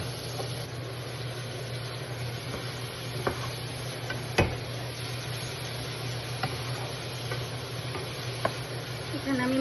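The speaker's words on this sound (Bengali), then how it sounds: "আমি মাছটা দিয়ে কিছুক্ষণ কষাই নেব।" Hilsa fish being sautéed with spices in a pan, a soft steady sizzle with occasional spoon taps and stirring clicks, close and continuous.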